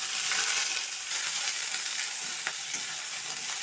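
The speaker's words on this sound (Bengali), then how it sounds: "এবার কেটে রাখা ঝিঙেগুলো দিয়ে দেবো।" Sliced ridge gourd fries in hot mustard oil with black mustard seeds and slit green chillies, giving a loud, steady, close sizzle that holds without a break and has no voices over it.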